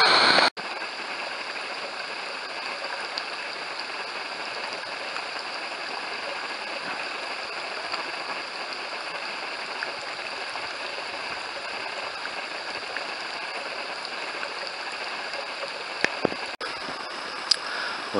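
A mountain waterfall along the Appalachian Trail near Mahoosuc Notch sends a steady, distant broadband rush that holds at an even level throughout, with no voices over it.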